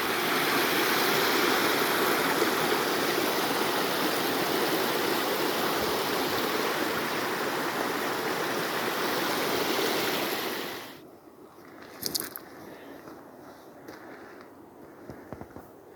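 A fresh water stream flowing by a mountain lake makes a loud, close, steady rushing roar that cuts off abruptly near the end, leaving near quiet with a few faint clicks and rustles.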